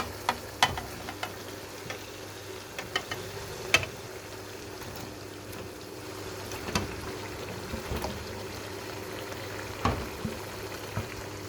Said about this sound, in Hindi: अब इसमें डालेंगे चिकन जो हमने फ्राई किया है।